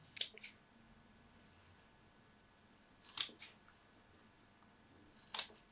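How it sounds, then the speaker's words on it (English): Scissors snipping through the seam allowance of a jeans waistband, three separate crisp cuts spaced a few seconds apart, close and clear in an otherwise quiet room. "the corners and trim the seam allowance"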